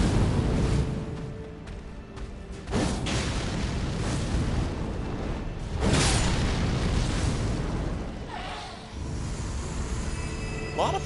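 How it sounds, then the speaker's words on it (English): A thrown spear in the Elden Ring video game bursts into fire on impact, giving loud booming blasts around the third and sixth seconds over a continuous heavy rumble. "And the explosion of fire will deal more damage."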